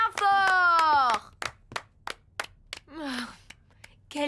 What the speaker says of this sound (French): On l'applaudit bien